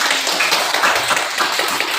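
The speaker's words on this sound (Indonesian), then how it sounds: "Tepuk tangan untuk kita." Children clapping together in a classroom, a steady, dense patter of hand claps filling the whole moment at close range with no talk over it.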